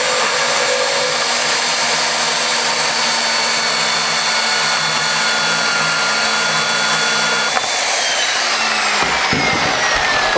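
A bandsaw cuts steadily under light downfeed pressure, a loud continuous whining hum with a high blade tone that holds level, then shifts near the end as the cut finishes, with no talking.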